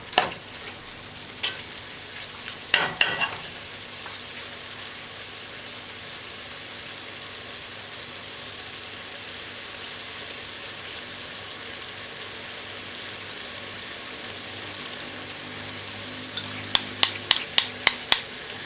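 Stew peas bubbling and sizzling in a pot left on high heat, a steady broadband frying hiss running throughout, with a few sharp clinks of a spoon near the start and a quick cluster of taps near the end.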